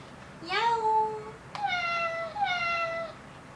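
Cat meowing from an animal picture book: two clear, fairly loud meows in a quiet room, the second long and drawn out.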